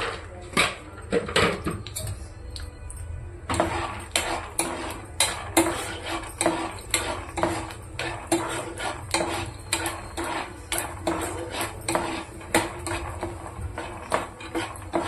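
Peanuts roasting in a pan are stirred with a utensil, producing repeated scraping and rattling knocks in a steady rhythm against the continuous hiss of the pan, close and fairly loud.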